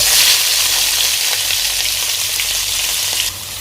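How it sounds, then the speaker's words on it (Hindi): Onions hitting hot oil in a pan for a spinach dish, a loud close bright sizzle hissing steadily for a few seconds with no talk, easing slightly at the end. "ऑयल गर्म होने देते हैं और इसके बाद प्याज डालेंगे।"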